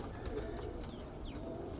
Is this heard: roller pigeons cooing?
yes